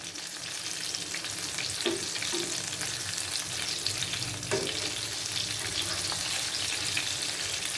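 Valai fish coated in masala fries in a pan with a steady, loud sizzle, and a couple of soft scrapes and thumps come as the pieces are flipped. No one speaks.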